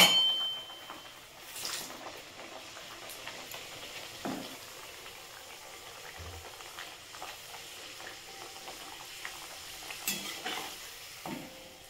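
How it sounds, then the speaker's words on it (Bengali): Peas-filled kachori deep-frying in hot oil until crisp, a soft continuous sizzle with occasional scrapes and clinks of a stirring utensil against the pan. "একটু কড়া করেই ভাজছি"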